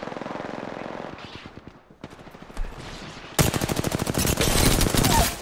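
Rapid automatic gunfire from enemies in Apex Legends: bursts start faint and sparse, then a dense, loud, sustained volley of shots crackles close by for the last couple of seconds.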